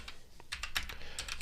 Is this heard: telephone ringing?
no